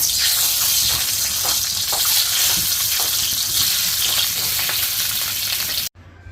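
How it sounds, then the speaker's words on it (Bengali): Five eggs fry in a little oil in a pan for egg korma, giving a loud, steady sizzle and crackle that stops abruptly near the end. "ডিমগুলো এখন সামান্য তেলে হালকা করে ভেজে নেব"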